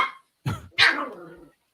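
A pet dog gives two or three short, sharp barks close by in a room, separated by brief silences, with no talking.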